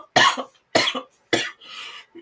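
Three sharp, close coughs in quick succession, each a harsh burst followed by a short rasp, with a softer throaty exhale trailing after the last.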